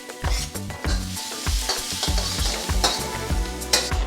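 Minced garlic and ginger sizzle loudly in a pan for crispy orange beef, a constant frying hiss broken by repeated low thuds and scrapes of stirring.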